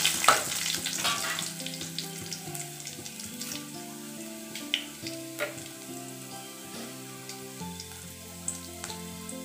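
Small onions and a couple of dried red chillies fry in oil in a pan for lemon rice, crackling and sizzling steadily at moderate volume with occasional spoon taps, over soft tonal background music.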